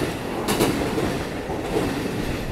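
A long 15-car commuter train runs through central Tokyo, its steady rumble and rolling wheel noise continuous and fairly close, with a swell of louder rattling clatter partway through and no talk.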